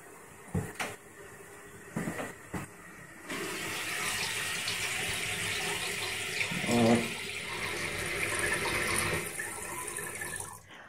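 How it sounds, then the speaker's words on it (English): An American Standard H2Option toilet ghost flushing on its own, with a few clunks followed by a steady rush of running and refilling water that carries on to the end. "the sensitive button calibration that may cause some ghost flushing or water running"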